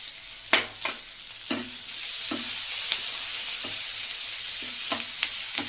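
Green chili, onion and panch phoron frying in hot oil, a steady sizzle with repeated sharp crackles and spatters over a continuous hiss, close and alone without any voices.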